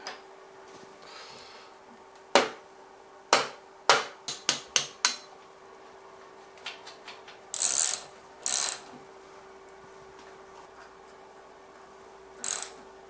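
Metal chain and sprockets being fitted into a planer gearbox make sparse, close mechanical clicks and clanks, several sharp knocks in a quick cluster followed by a few scraping rattles over a faint steady hum.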